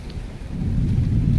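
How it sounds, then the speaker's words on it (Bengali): Heavy rain falls in a dense, swelling roar with a low rumble beneath it that builds steadily over the short clip. "ফোনটা ধরো, জোরে বৃষ্টি আসছে।"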